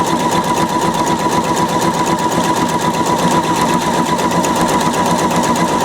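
A Pfaff 720 sewing machine stitches a buttonhole, its steady, rapid needle hum running loud and uninterrupted throughout with no talking.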